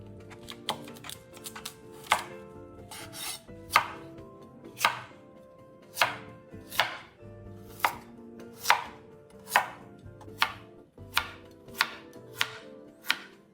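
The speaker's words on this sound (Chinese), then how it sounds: "接着一剖为4，再切成小块状。" A knife chops radish into small pieces on a cutting board, giving a steady run of crisp, close, moderately quiet strikes, roughly one or two per second, with no talk.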